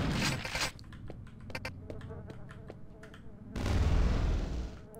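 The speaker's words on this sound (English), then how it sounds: "Did you witness that explosion? That was a wonderful explosion." An explosion in the Quake II 64 video game: a loud, broad burst of noise that swells and rumbles for about a second before fading, following a stretch of quieter game sounds and clicks.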